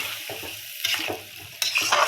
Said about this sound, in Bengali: মাছ দিয়ে একটু নেড়ে চেড়ে নেবো